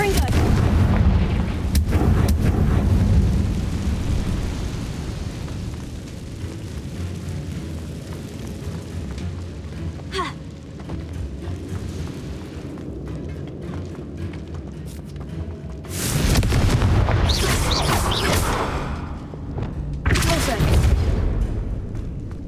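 Confringo fire spell blasts in the Hogwarts Legacy video game land as heavy, booming explosions in bursts, with rumbling between them and voices at times.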